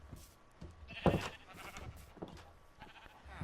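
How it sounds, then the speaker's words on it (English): Sheep bleat in the Minecraft video game, with one loud, close bleat near the start followed by fainter repeated bleats and soft game noises. "there is a way here where you can actually see the sheep."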